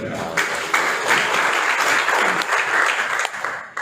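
Church congregation applauding during a sermon at a denominational general assembly, a full, sustained roar of many hands clapping at close range that continues evenly throughout.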